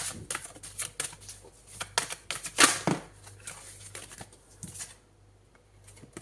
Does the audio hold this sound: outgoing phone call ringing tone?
no